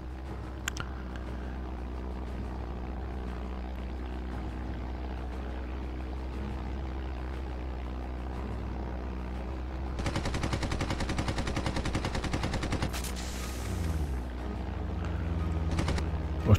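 Warplanes and rapid machine-gun fire in the Red Wings flight combat video game, a steady engine drone throughout with a dense burst of clattering gunfire breaking in over the last several seconds.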